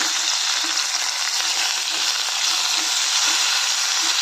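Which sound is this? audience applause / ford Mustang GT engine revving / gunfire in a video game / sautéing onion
sautéing onion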